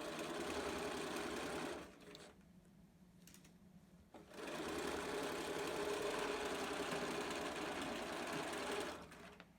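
A sewing machine stitches a fabric zipper pouch close up, running in a steady whirring burst, pausing briefly with a few faint clicks, then running again for several seconds before slowing at the end.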